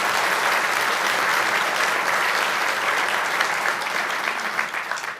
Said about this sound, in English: So if you please give them a round of applause